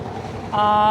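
A very small river boat moves along the way to Bholaganj, Sylhet, its steady engine drone swelling louder and clearer halfway through over a rushing wind-and-water wash, close by.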